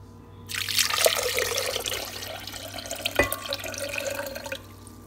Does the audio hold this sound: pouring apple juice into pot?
yes